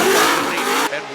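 Falcon Tires Corvette drift car at a Formula Drift pro competition in New Jersey, engine revving hard with tire squeal, a loud close burst lasting about a second.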